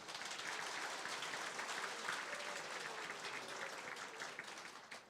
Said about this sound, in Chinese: 咱用掌声来甲欢迎吼